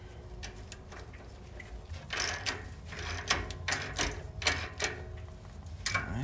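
A bolt on an exhaust bracket of a BMW E92 M3 with a Borla Atak exhaust and venturi is tightened with a ratchet. Close, rhythmic clicking bursts come in uneven runs with no talking.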